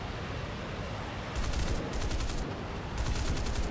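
Short bursts of 20 mm aircraft cannon fire in the War Thunder flight game, three quick rattling volleys over a loud, constant engine roar.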